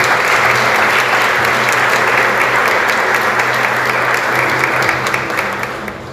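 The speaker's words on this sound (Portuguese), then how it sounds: "Vamos recebê-lo com as palmas ao Senhor Jesus." A church congregation bursts into loud, sustained applause, dense clapping from a large crowd close by that holds steady and eases slightly at the end.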